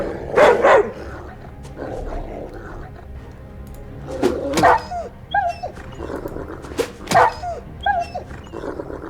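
A wolf in the fantasy role-playing game Swordhaven lets out loud, close barks and yips mixed with high whimpers in several bursts, with a player's voice speaking over parts of it.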